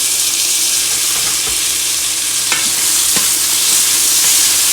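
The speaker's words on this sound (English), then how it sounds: "I'm going to add in my tomatoes." Tomatoes tipped into a hot pot of oil and garlic for a Haitian salmon fish head bouillon give a steady loud sizzle with frying crackle, broken by a few sharp stirring clinks.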